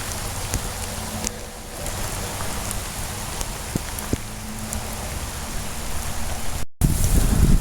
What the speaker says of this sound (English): Getting a little rain, but that never stopped me before.